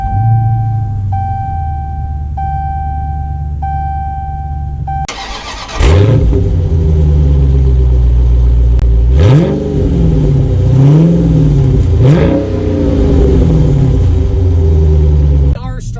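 A 2019 Dodge Challenger 1320 drag car starts up and pulls away on a drive, its deep engine droning steadily with several rising revs and gear changes, preceded by a quieter interior hum with faint beeping chimes.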